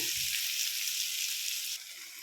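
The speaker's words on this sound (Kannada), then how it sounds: "ಈರುಳ್ಳಿ ಹಾಕ್ಕೊಂಡು ಬಾಡಿಸ್ಕೊತಾ ಇದ್ದೀನಿ ಚೆನ್ನಾಗಿ" Onions sauté in a pan with a steady, hissing sizzle heard close up, a brief stirring scrape at the start, and the hiss dropping slightly near the end.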